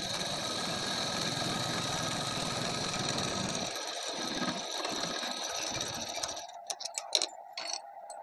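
Sewing machine running along the seams of a suit, a quiet, steady mechanical whir with faint ticking that halts partway, followed by a few soft clicks and handling noises.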